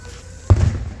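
A single distant Fourth of July firework bursts with a dull boom, one thud in the middle of an otherwise quiet outdoor night.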